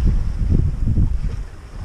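Wind of 15 to 19 knots rushes over a sailboat crossing the Gulf of Squillace in Italy, a steady low buffeting roar with gusty pulses and microphone rumble, no voices.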